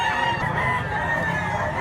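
A seven-month-old rooster at a livestock market in Mantalungon, Cebu crows and clucks close by, a steady, full sound across the short stretch with no talk over it.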